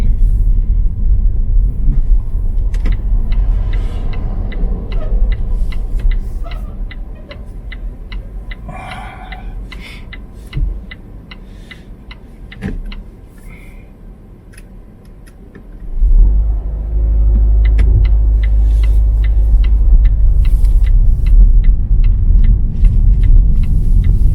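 A car engine accelerating up a hill under full throttle. A loud, steady rumble carries through with rapid ticking. It dips to a quieter stretch, then surges back strongly and holds a heavy low roar.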